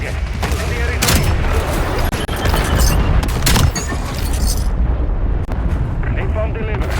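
Napalm strike in a modern first-person shooter, a dense rolling roar of fiery explosions and booming blasts mixed with gunfire, loud and continuous throughout, with radio-style voice callouts over the top.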